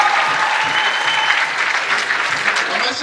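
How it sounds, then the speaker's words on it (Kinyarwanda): Sustained, loud applause from an audience, dense clapping from many hands throughout a brief stretch. "amashyi menshi ku mukuru w'igihugu"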